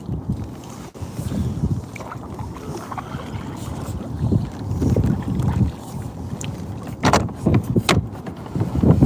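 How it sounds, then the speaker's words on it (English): A small fishing boat paddled toward a riverbank, with soft water sloshing and paddle strokes close by under steady wind noise on the microphone. "Let me paddle a little bit closer."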